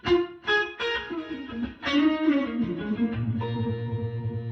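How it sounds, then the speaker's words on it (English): Clean electric guitar notes and chords ring out with a roomy ambient reverb, giving a spacious, reflective tail behind each strum. "you hear it's basically like a bit of a room"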